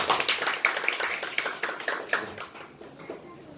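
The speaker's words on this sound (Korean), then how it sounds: "박수 한번 쳐드리겠습니다." Church congregation clapping at a Korean service, a dense patter of many hands that starts loud and thins out toward the end, with no talking over it.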